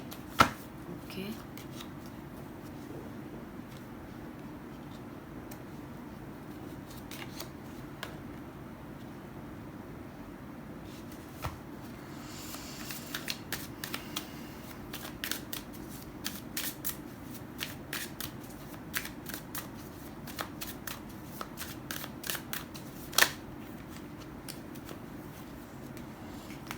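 Tarot cards shuffled by hand during a card reading: a steady stream of soft riffles and quick flicks that grows busier in the second half, with a low background hum and some speech.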